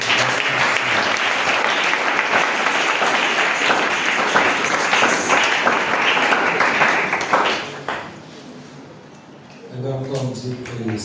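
A church congregation gives sustained, loud applause that fills the space for several seconds, then fades away before a preacher resumes speaking.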